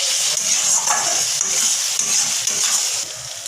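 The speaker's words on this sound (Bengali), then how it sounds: "তো দেখতে পাচ্ছ আমি নাড়িয়ে দিচ্ছি কালারটা দেখো কতটা সুন্দর হয়েছে" Masala with Kashmiri chilli powder sizzles in hot oil while it is stirred, making a continuous, close hissing fry with light scraping strokes throughout.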